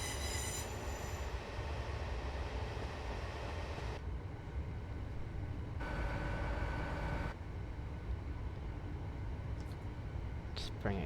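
Long electric train in Train Sim Classic running steadily on the Met line, a continuous loud rumble with wheel squeal and occasional changes in tone throughout, with a voice speaking over it.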